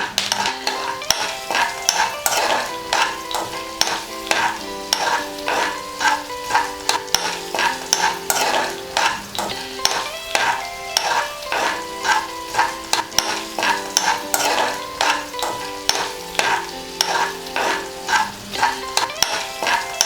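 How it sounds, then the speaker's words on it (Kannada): Curry leaves sizzling in hot oil while a spoon stirs and scrapes the pan for puliyogare, with rhythmic metallic scrapes over a constant frying crackle, close and clear, no talk. "ಇವಾಗ ಇದನ್ನು ಚೆನ್ನಾಗಿ ಮಿಕ್ಸ್ ಮಾಡ್ಕೊಳ್ಳೋಣ."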